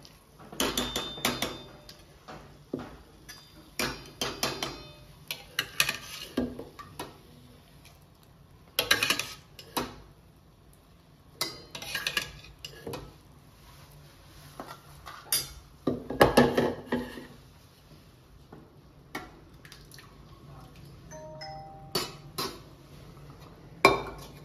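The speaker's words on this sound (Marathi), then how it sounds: "आता मी भाजी टाकते." Vegetables go into a pan of cooked onion-tomato masala for pav bhaji and are stirred, giving intermittent metallic scrapes and clinks of a spoon against the pan between quiet pauses.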